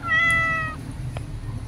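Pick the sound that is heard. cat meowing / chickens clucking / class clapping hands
cat meowing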